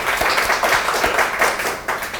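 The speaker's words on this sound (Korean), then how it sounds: "박수 한번 칠까요?" Audience at a business success talk clapping together, a dense burst of applause lasting a couple of seconds, fairly loud and close with no speech over it.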